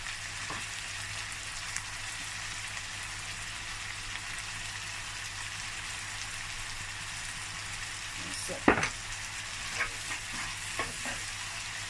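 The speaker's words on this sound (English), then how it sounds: "I'm going to allow it to cook for about 5 minutes." A pan of food with curry and thyme sizzles and fries softly in a home kitchen, a steady low crackle with a few brief scraping stirs near the end.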